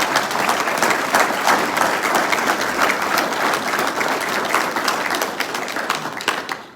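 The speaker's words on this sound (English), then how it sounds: "Let's give those folks a round of applause." A crowd applauds at a 2022 marathon awards closing ceremony, with loud, even clapping that holds for about six seconds before trailing off.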